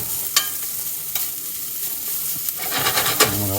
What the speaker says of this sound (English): Just kind of mix it up a little bit so the grease from the bacon kind of gets all over the potatoes and helps make them all nice and crispy.